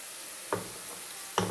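Food for a beef stew fries in a pan, with onions cooking down, giving a continuous sizzling hiss broken by two brief stirring scrapes, close and without talk.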